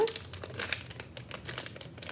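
A plastic snack package is torn open and crinkled up close, with short, sharp rustling bursts repeating quickly over a couple of seconds.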